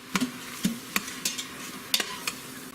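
A spoon stirs chili ingredients, dehydrated minced onion and ground cumin, in an Instant Pot, giving about eight quick scraping strokes in an uneven rhythm, close and clear with nothing else heard.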